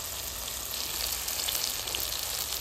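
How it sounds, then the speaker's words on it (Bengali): Onions frying in a pan with garlic just added, a steady close sizzle and crackle holding at an even loudness throughout, with no talk over it. "পেঁয়াজ ভেজে নিয়েছি, এবার রসুন দিয়ে দেবো।"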